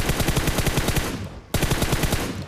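Rapid automatic gunfire from the BGMI mobile battle royale game, a dense burst of evenly spaced shots that breaks off briefly and then resumes just as loud, with no talk over it.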